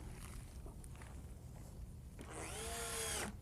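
Power drill driving screws into wood while building a telescope cradle board, a faint rustle and clatter of handling followed by a rising whirring drill burst of about a second near the end.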